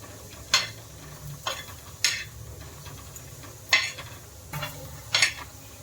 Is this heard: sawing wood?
no